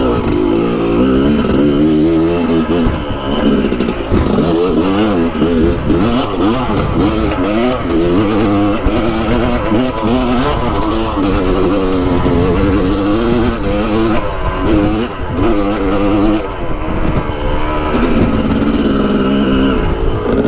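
A Lectron-carbureted motorcycle being ridden: the engine revs up and down repeatedly for the whole stretch, loud and close, with rising and falling pitch sweeps as the throttle opens and closes and the rider shifts.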